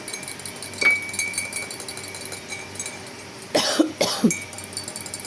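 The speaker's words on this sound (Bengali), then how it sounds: "আর এই জন্য খুসখুসে কাশি হইতেছে" A dry, tickly cough breaks out twice in quick succession, close and fairly sharp, against a quiet indoor background with a soft earlier clatter.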